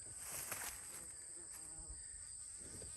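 A bee buzzes faintly among garden blossoms outdoors, a soft fluttering hum with a few brief louder passes against a quiet background of insect chirping.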